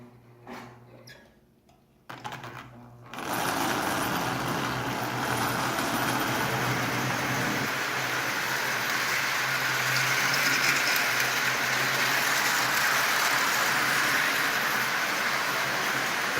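A rebuilt Marx 400 toy electric train, assembled from junk parts with new brushes, runs around its track hauling 16 Marx cars at partial power, giving a steady close whirring hum and rattle after some brief handling noises at the start.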